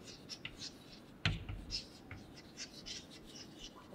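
Pen or pencil writing amounts during a Class 4 maths lesson, soft scratchy strokes coming in short bursts, close and quiet, with one sharp tap partway through.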